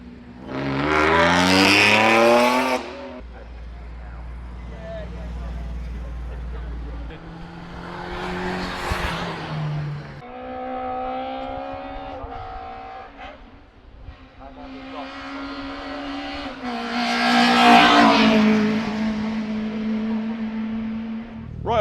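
Race cars blast up the Shelsley Walsh hillclimb, engines rising through the gears in loud, close bursts with a few quieter gaps as cars pass; talk can be heard faintly between runs.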